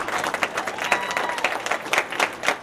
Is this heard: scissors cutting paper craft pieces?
no